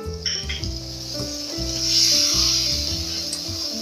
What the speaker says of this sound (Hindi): अब इसमें मैं हरी मिर्चें डालूंगी।